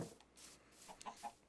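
Chickens cluck faintly in a video game, with a few short, soft clucks near the end against a quiet background.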